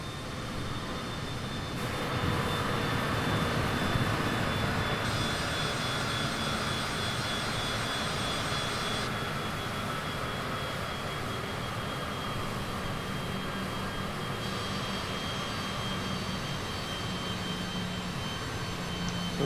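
A Citation CJ4 business jet in Microsoft Flight Simulator 2020 taxis onto the runway before departure. Its steady, loud jet-engine whine and roar hold evenly throughout, with no talking.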